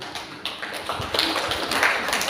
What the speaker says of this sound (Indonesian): Kasih tepuk tangan buat diri sendiri.